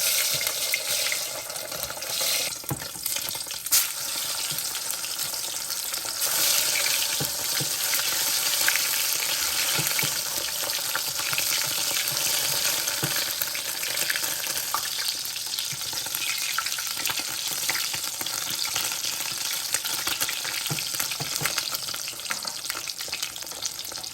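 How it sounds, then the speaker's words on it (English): Food being deep fried in oil in a pan while cooking lamb chops: a continuous bright crackling sizzle at close range, with occasional clinks and bursts, steady throughout and with no talking. "So I wanna deep fry it"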